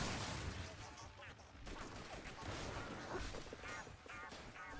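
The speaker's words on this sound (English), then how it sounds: "That big explosion sounded quite expensive" Big explosion in the video game Fallout 76, a dense roaring blast of crackling booms that fills the scene and rumbles on steadily, with bursts of gunfire-like popping mixed in.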